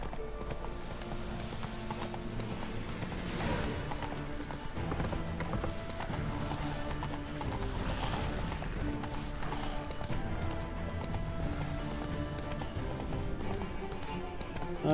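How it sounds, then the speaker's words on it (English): A horse gallops in a video game with a steady rhythmic clip-clop of hooves and an occasional whinny, heard beneath game music and ambience at moderate volume. "Run, Roach."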